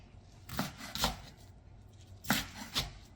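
A knife chops through boiled Korean spikenard shoots (bujigaengi greens) on a board, four sharp strokes in two quick pairs separated by a pause, close and fairly loud.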